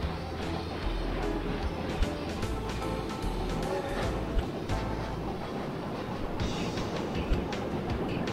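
Trains rumbling along the tracks in the video game Chris Sawyer's Locomotion, a steady low rolling drone with faint rhythmic clicks, continuous and moderately loud.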